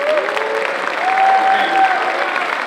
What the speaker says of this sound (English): So maybe a round of applause for that.